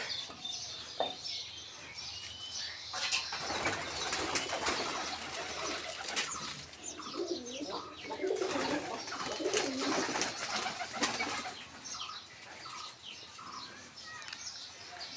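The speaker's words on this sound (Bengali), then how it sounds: "এই রুমের মধ্যে আছে অনেকগুলো কবুতর" Many pigeons coo in a small rooftop coop room, a dense, steady chorus of soft throaty calls with scattered chirps, close and continuous throughout with no one speaking.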